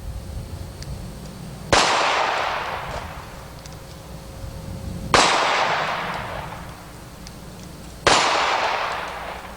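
Three loud gunshots, evenly spaced a few seconds apart, fire lead bullets into steel targets. Each sharp crack is followed by a long, fading metallic ring.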